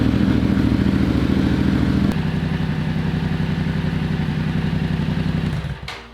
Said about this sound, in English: I'm gonna start the bike up and get it all warmed up to change the oil